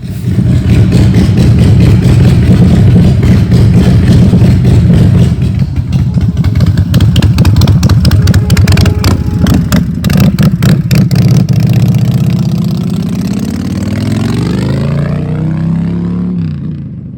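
A custom Buell X1 Daytona Special motorcycle runs while being ridden, its engine loud and close with a continuous revving roar that eases slightly toward the end.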